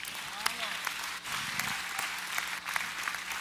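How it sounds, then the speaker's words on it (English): An audience at a sermon breaks into applause, a dense steady clatter of many hands sustained throughout the clip. "Clap, clap, clap."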